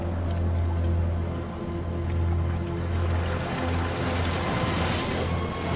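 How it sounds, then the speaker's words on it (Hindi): Incoming tide with waves washing over rocky tide pools on the American coast, heard as a steady, moderately loud wash of surf with a low rumble beneath and no voices. "एक बार फिर ज्वार आ रहा है।"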